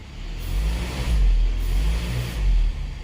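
A 2019 Kia Sorento with a rough idle revving up close, the engine surging in two or three rising swells over a steady low rumble, with no voices.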